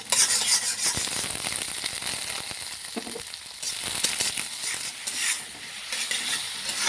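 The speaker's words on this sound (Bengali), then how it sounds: "এবার ডিমটাও একটু ঝুড়ো ঝুড়ো করে ভেজে নিচ্ছি।" An egg being scrambled and fried in a pan for chow mein makes a steady sizzle with frequent scraping and clicking stirring strokes, fairly close, fading a little in the middle before it picks back up, with no one talking.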